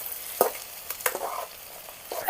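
Brinjal curry, cooked village style with green chilli and tomato, is stirred in a pan with a few scraping spatula strokes over a quiet sizzle, close up and without voices.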